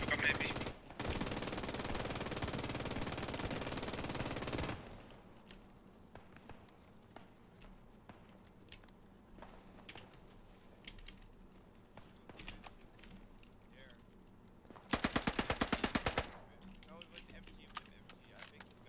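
Bursts of machine gun fire in the World War II shooter Post Scriptum during the Oosterbeek battle, a long loud burst at the start and a shorter rapid rattle near the end, with quieter distant shots and soldiers talking between.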